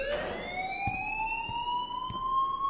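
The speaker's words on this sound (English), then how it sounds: "please turn off that alarm" A fire alarm in the video game Life is Strange wails continuously, a loud electronic tone sweeping slowly upward with bright harmonics, punctuated by faint regular clicks about every half second.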